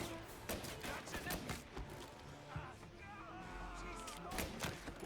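Bursts of gunfire in a 1930s gangster shooter, Mafia: Definitive Edition, with sharp shots and thuds scattered through a mid-level fight mix, while someone talks now and then over the action.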